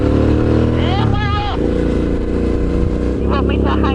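A Suzuki V-Strom motorcycle carrying two riders on a road trip, its engine droning loud and steady under heavy rushing wind, with voices talking over it.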